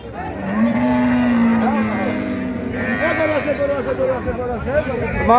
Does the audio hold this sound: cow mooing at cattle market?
yes